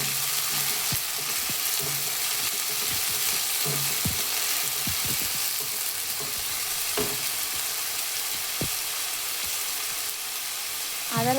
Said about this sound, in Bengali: এর মধ্যে আমি 2 টেবিল স্পুন আদা রসুন বাটা দিচ্ছি